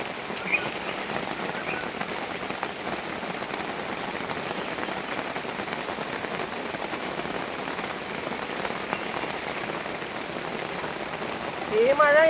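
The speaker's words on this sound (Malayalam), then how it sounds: "ഈ മഴ എപ്പോൾ തോരുമെന്ന് അറിയില്ല." Heavy rain pours down in a village setting as a dense, unbroken patter of drops striking surfaces, loud and constant from start to finish.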